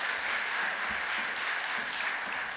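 Church congregation applauding to welcome a pastor to the pulpit during a Sunday service, a steady fairly distant patter of many hands that continues evenly throughout.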